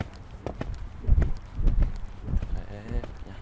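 A horse moves on soft ground during a training session, giving muffled rhythmic hoofbeats and thuds at close range, with a voice speaking intermittently over them.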